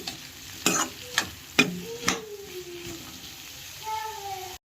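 A spatula stirs bitter gourd (kakarakaya) fry in a pan: four quick, close scraping strokes, followed by a thin tonal whine and a soft steady background.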